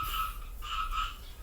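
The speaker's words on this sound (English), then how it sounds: "Shut up, it's a frog." A frog croaks in a rapid, buzzing trill, two pulsed bursts split by a short gap, faint and without any talk.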